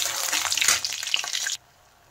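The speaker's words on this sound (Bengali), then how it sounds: "বড়িগুলো একটু লাল লাল করে ভেজে তুলে নেব।" Lentil dumplings (dal bori) fry in hot mustard oil with a loud, close, continuous crackling sizzle that cuts off abruptly partway through, leaving near silence.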